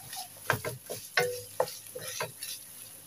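Shrimp paste (alamang) being sautéed in a pan for kare-kare sauce, giving soft stirring scrapes and light sizzling, close and moderately quiet, with no talking.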